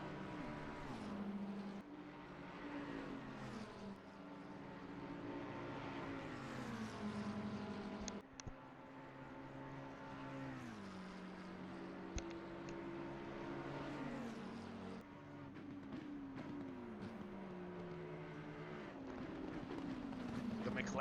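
McLaren and Bentley GT3 race cars at Spa in Assetto Corsa Competizione, their engines whining steadily and climbing and dropping through repeated gear changes for the whole stretch. Faint race commentary may sit underneath.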